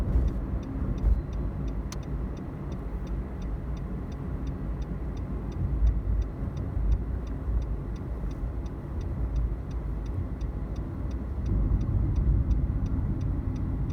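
Car on a driving-test course in Ras Al Khaimah, engine and road noise rumbling low and steady throughout, with a faint regular ticking like an indicator running alongside, no talk.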